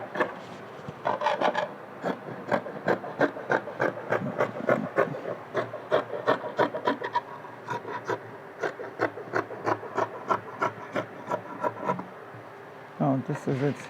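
Scissors cut fabric for a drop neck top sleeve in a long series of rhythmic crisp snips, steady and close, pausing near the end before a few more cuts.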